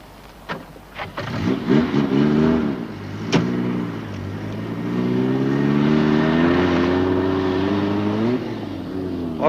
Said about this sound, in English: then start your car up